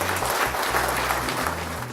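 An audience in a hall applauds a silver medalist, a short steady wash of clapping with a low hum running beneath it and no voices.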